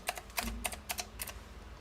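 A small label maker prints date labels with quick, crisp clicking bursts, like a tiny typewriter, close up and fairly quiet, in irregular rapid clusters with no talking.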